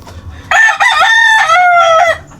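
A gamefowl rooster gives one loud, close crow lasting about two seconds, strong and harmonic with a rising start and a long held middle, with no other sound around it.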